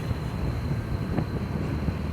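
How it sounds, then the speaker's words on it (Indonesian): Strong wind buffeting a microphone beside the Sinjai–Malino–Makassar road, a constant broadband rumble and roar with no gusts dropping away, steady and close throughout. "nggak bisa nerbangin drone ini kalau begini. Anginnya kenceng begini."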